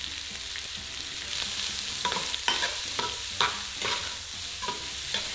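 Garlic, onion and ginger sauté in hot beef fat, a soft steady sizzle broken by repeated scraping stirs of a utensil against the pan, close by with no talk.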